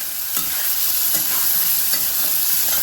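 Plenty of chopped onion fries in a hot pan with a dense, even sizzle, and a few soft scrapes of stirring come through close by.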